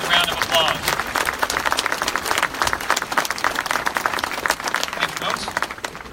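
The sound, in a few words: audience applause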